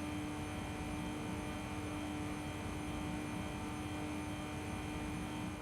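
A tuned Aston Martin V8 Vantage pushed to 992 hp in Gran Turismo 3 holds a steady, sustained high-speed engine drone with a constant pitch, running alone at moderate loudness throughout.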